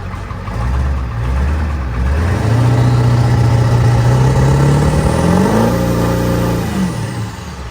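A truck engine, likely a Ford 7.3 Powerstroke diesel, runs up close and loud on a cold morning, its tone rising and falling as it is revved rather than settling into a steady idle.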